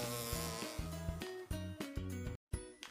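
Cartoon-style bee buzzing in a children's nature lesson: loud, rhythmic droning tones that pulse in short bursts, with a brief dropout near the end and no voices.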